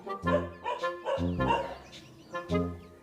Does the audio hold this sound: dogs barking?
yes